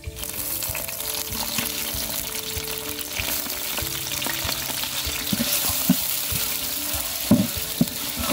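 Pieces of fat, meat and bone are stirred into onions frying in a pan, giving a loud, close, steady sizzle with scraping stir sounds and a few sharp clinks, and no talking.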